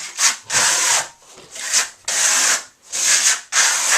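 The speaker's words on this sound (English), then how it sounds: "So I'm going to show you the demonstration of how to put the Marmorino KS on first." Steel trowel applying Marmorino KS Venetian plaster base coat, giving close, loud scraping strokes in a repeating rhythm of about six sweeps separated by brief pauses.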